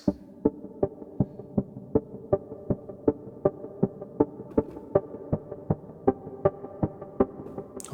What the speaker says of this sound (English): just a very minimal pulsing ARP sound there